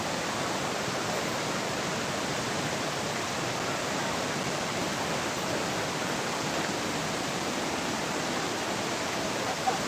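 A waterfall where people are bathing pours in a steady, dense broadband rush, loud and unbroken for the whole stretch, with no voices rising above it.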